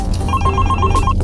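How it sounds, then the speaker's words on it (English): A telephone rings loudly and close, a rapid trilling bell pulsing in quick repeated bursts over a low steady hum, with no one speaking. "The phone's ringing."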